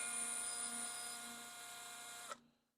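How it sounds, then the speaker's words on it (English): An electric drill spins a small carburetor shaft from a Toro GTS lawn mower engine to smooth it, giving a steady, close, high-pitched whine that runs for about two seconds, then cuts off and winds down into quiet. "if you chuck it in a drill, then you can get all sorts of shafts and things like that working again real nicely"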